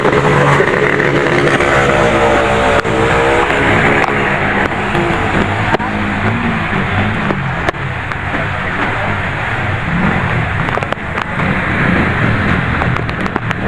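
Flooded motorcycle engine revving loudly amid a typhoon, a continuous rough roar with wavering pitch blended into heavy rain and wind noise, filling the whole stretch without pause.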